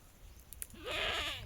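A pregnant Kathiawadi goat gives a single wavering bleat that swells and then fades, quiet and fairly close, after a short stretch of faint background sounds.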